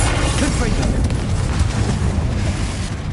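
A Confringo blast spell explodes in Hogwarts Legacy, a sustained booming rumble with dense low-end roar filling the whole moment, loud and continuous like a fiery detonation.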